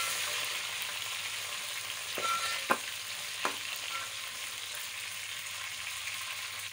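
Garlic and onion fry with a soft, steady sizzle, with a few quick scrapes and taps of a spoon stirring in the pan.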